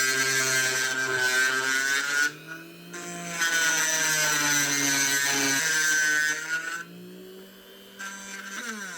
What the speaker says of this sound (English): I'm making the wider egg shape with the Dremel